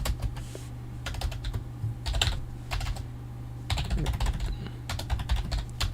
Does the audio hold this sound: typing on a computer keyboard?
yes